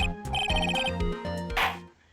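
A cell phone ringtone chiming in the Phoenix Wright: Justice For All courtroom game, a melodic repeating pattern of bright tones that plays clearly and alone before cutting off.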